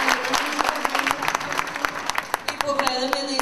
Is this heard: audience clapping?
yes